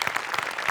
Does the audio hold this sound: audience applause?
yes